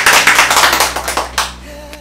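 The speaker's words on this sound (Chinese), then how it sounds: "认同请掌声。" Wedding audience applauding as the groom reads out marriage promises, a dense burst of clapping that thins into scattered claps and fades out.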